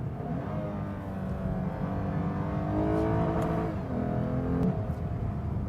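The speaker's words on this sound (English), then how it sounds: "we're going to show you here just a quick downshift in a second, third" A 2015 Lexus IS350 F Sport engine revs steadily, its pitch climbing and then dropping sharply as it downshifts quickly through second, third and second gears, with no one talking.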